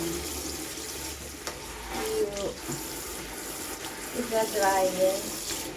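Water runs and splashes from wet laundry hung to drip instead of going in the dryer, a soft trickling patter with a few brighter splashes toward the end, fairly close and quiet, with no speech.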